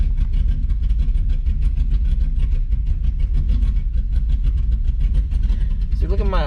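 A Chevrolet Camaro Z28 idling at a low 300 to 400 rpm after tuning of its idle air control valve: a steady, close, deep engine rumble that holds evenly throughout.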